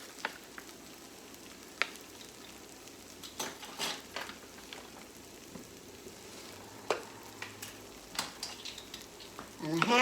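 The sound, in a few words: stirring sizzling shrimp and rice seasoning in a pan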